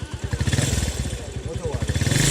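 A motorcycle engine running nearby on a rural road in Kouroussa, Guinea, with a steady, low, rapid chugging pulse that rises slightly, heard under a voice talking.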